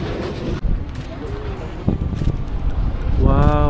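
Strong coastal wind buffeting the microphone at a windmill site near the sea, rough gusty rumbling throughout, with a person talking over it and a voice rising toward the end.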